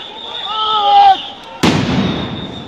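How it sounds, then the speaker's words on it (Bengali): Police sound grenade going off at a street protest, a single sharp loud blast that cuts through a rising whistle-like tone and decays into crowd noise and rumble. "আবার সাউন্ড গ্রেনেড নিক্ষেপ, মুহুর্মুহু সাউন্ড গ্রেনেড নিক্ষেপ"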